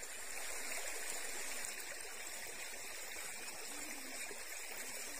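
Steady, broadband rush of the Boyong River stream flowing over large rocks, a continuous near wash of water with no voices, holding an even level throughout.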